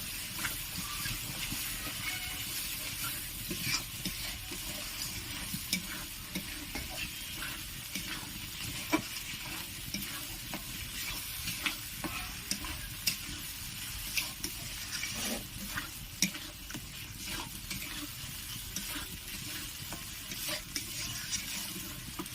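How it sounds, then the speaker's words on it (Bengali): Mixed vegetables being sautéed in a pan, a low continuous sizzle and hiss broken by regular spatula scrapes and taps, fairly quiet and steady throughout, no talk. "ভালো করে এটি কষিয়ে নেব।"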